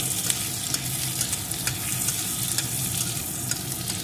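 Chopped green chillies fry in ghee, giving a dense, steady, close sizzle sprinkled with small crackling pops throughout.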